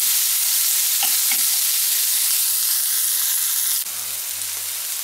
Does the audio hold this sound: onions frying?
yes